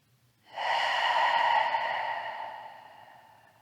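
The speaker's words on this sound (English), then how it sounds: "We'll give it a few breaths." A long, slow breath during a yoga pose in a shoulder mobility and balance practice, a single soft airy exhale rising quickly then fading gradually, close and alone.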